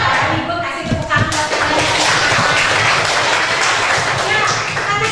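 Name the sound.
classroom applause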